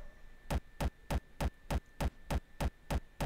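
Rapid evenly spaced thumps, about ten short punchy Frenchcore kick drum attack hits in a steady fast rhythm, isolated with a faint background hum.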